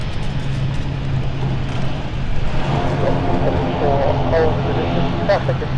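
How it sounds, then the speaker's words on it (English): A steady droning roar of turboprop engines fills the clip at London City Airport, with a low hum and a voice speaking briefly over it. "Iconic noise there from the turboprops."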